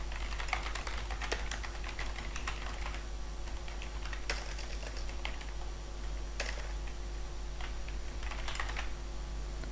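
Login credentials typed on a computer keyboard, a steady run of close, light key clicks with brief pauses, over a faint constant hum and with no talking.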